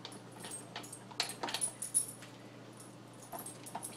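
A dog eating kibble from a slow-feeder bowl with small slots, heard as soft irregular clinks, nudges and crunches that come close together in the middle and thin out toward the end.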